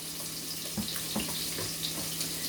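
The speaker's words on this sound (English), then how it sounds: "Put just a little bit of water." Water runs into a pan of fresh Brussels sprouts, a steady close hiss and splash of pouring that holds throughout, with faint clinks over it and no talk.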